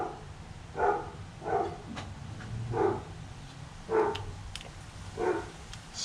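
Several dogs bark at a doorbell indoors, about six separate bursts spaced roughly a second apart against a quiet room hum, moderately loud and close.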